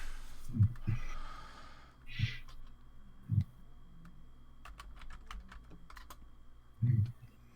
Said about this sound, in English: Damn it, there's a fucking hair in my keyboard.